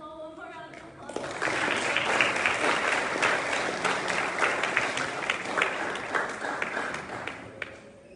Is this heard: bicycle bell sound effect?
no